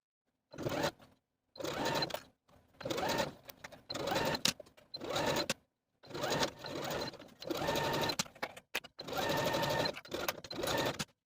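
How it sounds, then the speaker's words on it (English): A sewing machine hems knit fabric on a dress in repeated bursts of rapid stitching, stopping and starting with short quiet pauses between runs. "Now I'm going to take the dress to the sewing machine and sew my hems"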